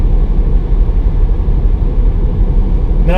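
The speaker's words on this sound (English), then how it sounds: "I'm going to hit the gas pretty hard right here." Tesla Model 3 electric car accelerating hard, a steady low rumble and road roar filling the interior without engine revs, near and constant throughout.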